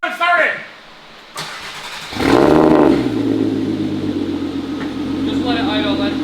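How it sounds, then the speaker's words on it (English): A MK4 VW R32 with upgraded cams cold-starts: a short cranking whir, then the engine catches with a loud bark and settles into a steady, rumbling idle while people talk nearby. "gonna give us a cold start!"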